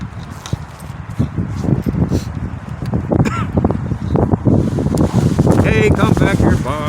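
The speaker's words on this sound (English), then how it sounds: "Wind is so horrible out here." Strong outdoor wind buffets and rumbles against the microphone in steady loud gusts, mixed with handling thumps and someone talking over it.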